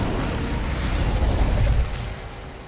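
Incendio fire spell cast in Hogwarts Legacy, a rumbling whoosh of flame that swells for under two seconds and then fades, loud and close.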